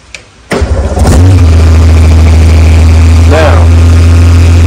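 A loud 2023 Harley-Davidson Road Glide 3 engine with no exhaust fitted cranks briefly, catches and roars to life, then settles into a steady, close idle with a couple of small revs.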